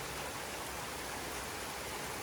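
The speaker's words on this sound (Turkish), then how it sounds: "Fethiye'nin kışında genelde böyle yağmurlar var." Winter rain in Fethiye, Turkey falls as a steady, even hiss of broadband noise, faint and unbroken throughout, with no voices.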